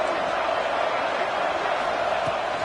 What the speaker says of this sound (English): this crowd bearing down and getting loud on third down